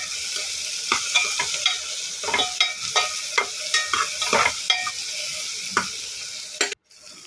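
Potatoes and onions for potato saagu are fried and stirred in a pan, with a steady sizzle broken by a regular run of loud scraping and tapping strokes from the spatula, then a brief cut-off near the end.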